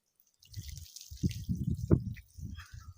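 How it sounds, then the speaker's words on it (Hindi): Water from a jug is poured over a person's body from head to feet during a ritual bath, giving a series of close, uneven splashing and dripping bursts with brief pauses between them. "जग में पानी लेकर अब आपको क्या करना है, अब सर से लेकर जो है पैर तक पानी बहाना है"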